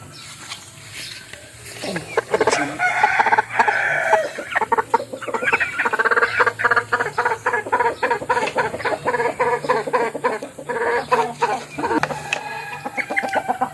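A rooster crows loudly and close by, followed by busy, repeated clucking from several chickens, with other birds faint behind them.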